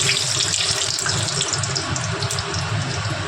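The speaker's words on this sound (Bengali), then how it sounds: "ওই তেলের মধ্যেই আমি ফোড়নে দেব তেজপাতা, দারচিনি," Bay leaf and cinnamon sizzling in hot oil in a pan for a chicken curry, a steady, loud, hissing crackle that holds evenly throughout without pause.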